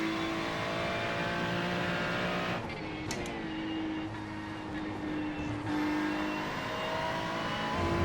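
Ferrari race cars lapping Oulton Park in a racing game, with steady engine drones and pitch-shifting whines layered together as several cars pass and change gear, continuous and fairly loud throughout.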